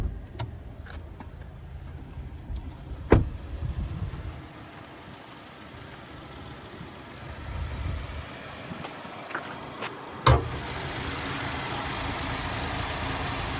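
A 2021 Subaru Ascent Touring's 2.4-liter turbocharged boxer engine idles steadily under an open hood, a low continuous hum with a couple of brief clicks and knocks nearby, and no talk.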